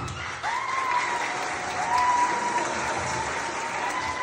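Applause rises from a small group at an informal modeling contest with grandmothers as candidates, scattered clapping running throughout under a faint whistle-like tone.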